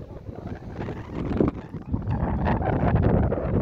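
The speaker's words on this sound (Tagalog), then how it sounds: "Ang hangin talaga, as in." Gusty wind roars against the microphone by the shore, swelling louder midway and staying strong, with no talking.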